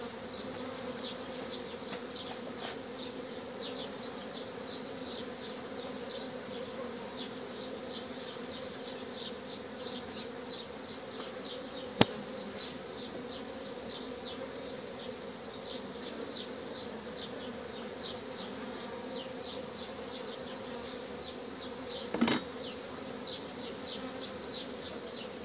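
Honeybees drone steadily in a queenless hive with laying workers, a dense, even buzz that holds throughout, with a couple of brief knocks and no talk.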